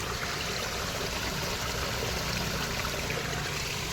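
Water trickles and babbles steadily, a soft continuous flow with no voices.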